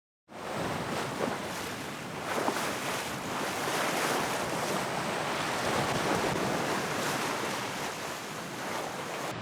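Wind and waves at sea aboard a Hunter 33 sailboat crossing the Gulf Stream, a constant loud rushing wash of water and wind buffeting the microphone, steady from start to finish with no voices.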